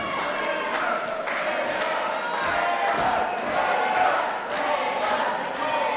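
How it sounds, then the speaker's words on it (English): A dense wrestling-event crowd cheers and roars steadily throughout, loud and continuous with a few sharper swells and thumps mixed in. "This crowd getting behind Chris Taylor"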